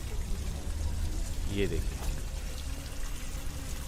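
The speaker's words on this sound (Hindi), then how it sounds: "ये जो पानी है यहाँ सामने से बहता हुआ आ रहा है।" Water flows and trickles in a stream at Mehrauli Archaeological Park in Delhi, a steady low wash under a man's nearby speech.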